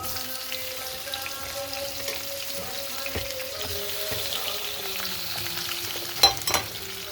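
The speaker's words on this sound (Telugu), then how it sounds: "అల్లం కొంచెం వేగిన వెంటనే పచ్చెనపప్పు వేస్తాను నేను" Ginger and chana dal frying in a pan, a soft steady sizzle at low level with faint stirring, ending in a couple of sharper clinks near the close.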